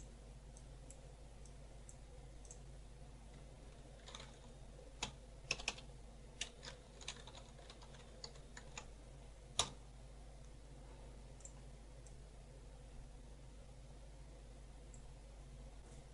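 A few faint, scattered key clicks sound from a computer keyboard while a word is typed into Photoshop, soft and close over a quiet, steady background hiss.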